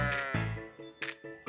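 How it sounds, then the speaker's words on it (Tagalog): Goats and sheep bleat at a breeding and dairy farm in Bacolor, Pampanga, giving two or three close, loud, wavering calls in quick succession with no talk over them. "Kambing at tupa ang pangunahing alaga rito."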